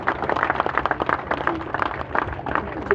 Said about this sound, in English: Let's give another round of applause for the family.